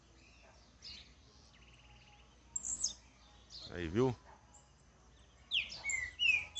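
A small songbird gives short bursts of high chirps and trills in a bird-keeping setting, with a near voice speaking briefly between the phrases.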